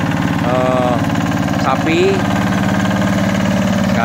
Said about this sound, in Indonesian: menggunakan mesin traktor untuk mengolah tanah sawah